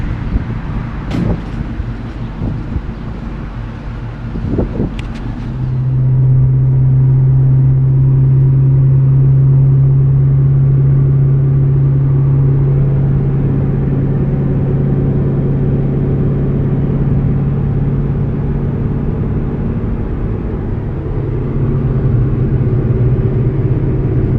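Steady, loud engine and road rumble from a car cruising along back roads between Illinois and Indiana, with a low droning tone rising as it settles to speed after a few early bumps.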